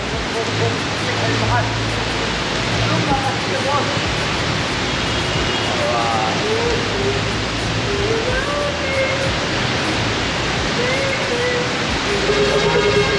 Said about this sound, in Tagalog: Palakas ang ulan, oh.